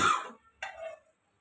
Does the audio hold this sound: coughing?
yes